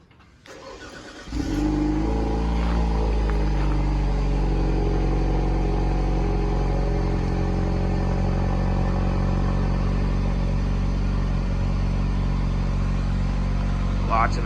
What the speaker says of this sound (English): so I'm gonna do the remote start here.